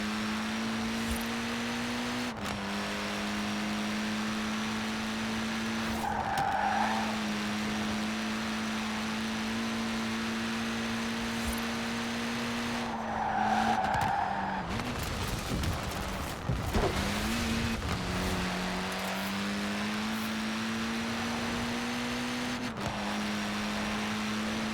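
A Mini Cooper S in Forza Horizon 4 drones along at steady engine pitch, with revs dipping and climbing through gear shifts and a few bursts of tyre skid and rough surface noise, loud and close.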